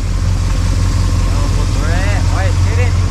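1986 Dodge Ram light-cab pickup engine idling, a steady low rumble that holds evenly throughout, with someone talking over it near the end.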